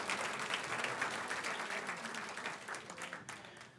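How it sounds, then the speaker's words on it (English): Audience applause at an award ceremony after silver awards are handed out, a dense wash of clapping hands filling the room at steady strength and easing slightly toward the end, with no speech over it. "Give her a round of applause."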